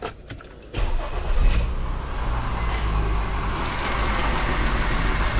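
Mercedes W204 car engine cranking and catching, then idling roughly with a steady low rumble close by, no talk over it.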